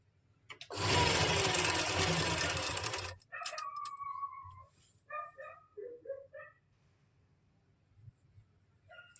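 A sewing machine runs a long steady burst stitching a pleated kurti, then falls quiet while a dog whimpers and yips in a string of short, scattered cries.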